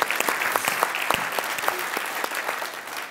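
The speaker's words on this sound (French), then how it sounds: "on peut applaudir Philippe" A studio audience on a comedy talk show claps steadily and fairly loudly for the whole stretch, a dense patter of many hands that carries on without a break.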